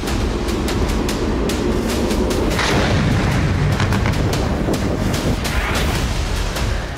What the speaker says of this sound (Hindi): ज़ेलेंस्की सेना ने रूस के 3 शहरों में बहुत बड़ा विस्फोट कर दिया है।